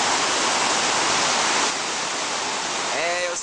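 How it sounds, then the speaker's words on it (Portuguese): The Cachoeira da Velha waterfall in Jalapão roars as a dense, loud, steady wash of falling water, and a voice briefly rises over it near the end. "Estamos aqui de novo na Cachoeira da Velha."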